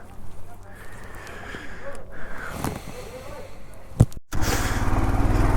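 A motorcycle descends a rocky mountain road on the way to Pithoragarh, its engine held back under engine braking with a steady low drone, tires crunching over stones, a voice talking over it, and a louder wind-buffeted burst near the end.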